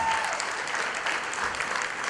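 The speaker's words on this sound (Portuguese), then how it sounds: "Uma salva de palmas para ele" Audience applause for a performer, a steady wash of many hands clapping close by and at moderate loudness, continuing evenly through the whole span without talk.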